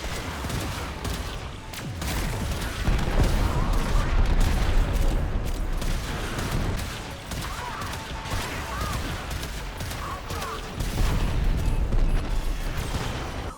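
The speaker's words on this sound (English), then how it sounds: "for the regular ships, you just shoot them with your cannons on your ship" Ship cannons in the video game Warframe fire in heavy booming volleys over several seconds, mixed with mechanical clanks and rumbling explosions, loud and continuous with surges around the middle and end.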